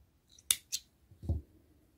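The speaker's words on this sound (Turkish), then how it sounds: "ipimizi koparalım. Ben makasımızla." Scissors snip through crochet thread: two crisp, close metallic cuts in quick succession, followed by a softer, duller thud as the tool is set down, with no talking.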